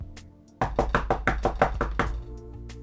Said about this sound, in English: with a confident knock, you hammer away at her door.